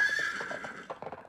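A comedic sound-effect horse neighs as it rears, one loud, high, wavering whinny that breaks into short snorting bursts, close and isolated with no speech.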